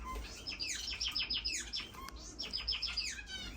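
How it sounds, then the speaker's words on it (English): Finches in an indoor aviary bird room, including shaft tails, cardinal blues, strawberry finches and star finches, chirp and tweet in quick overlapping runs, two dense bursts of high calls with no talking. "Those African shaft tails, cardinal blues, strawberry finches, star finches, they're on them."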